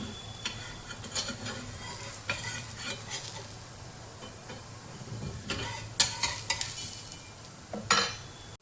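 A thin Konkani rice-flour ghavane crepe cooks on a hot pan, giving a soft continuous sizzle broken by scattered spatula taps and scrapes, with a few louder clatters near the end.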